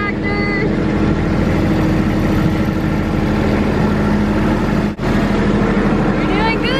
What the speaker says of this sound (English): It's your turn to ride the tractor.